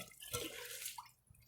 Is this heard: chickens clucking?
no